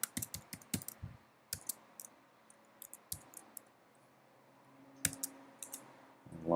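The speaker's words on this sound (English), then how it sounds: "And Jake, you'll put in your username and password." Keys clatter on a computer keyboard as a username and password are typed in, irregular bursts of close, crisp clicks with short pauses between them, heard alone without speech.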